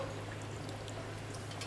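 Rinse water from a mixer jar is tipped into a pot of chicken green curry, making a soft, brief pouring splash over a low steady hum.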